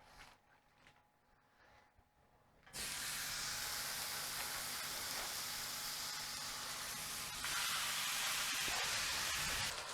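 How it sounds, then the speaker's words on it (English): Lamb chops for a Finnish Easter meal go into a hot frying pan: after a few quiet seconds, a sudden loud, steady hissing sizzle starts and carries on evenly to the end. "I'm now going to fry up the lamb"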